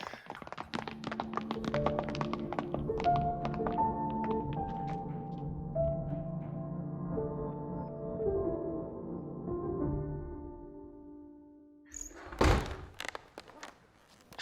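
Doors are barricaded with a run of soft thuds and knocks under a low sustained tone, then one sharp heavy slam near the end.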